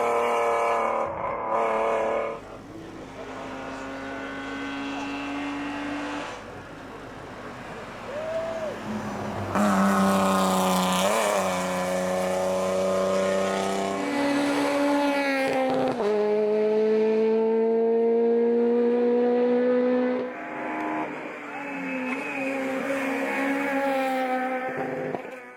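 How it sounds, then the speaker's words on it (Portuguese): A BMW race car launching hard from the start of the Rampa da Falperra 2022 hill climb: loud engine revving up through several gear changes, pitch rising and dropping repeatedly as it pulls away, sustained and close. "Saída forte deste piloto do BMW."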